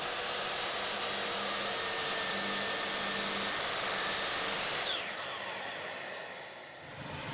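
An electric hand planer fitted with fresh Trexel blades cuts wood with a loud, steady whining roar that drops and fades as the motor winds down near the end.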